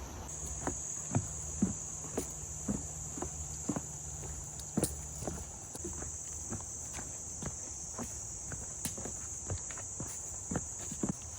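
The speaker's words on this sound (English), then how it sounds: "The crickets." Crickets chirp in a steady high-pitched drone on the Appalachian Trail, with footsteps crunching irregularly close by underneath; no talking.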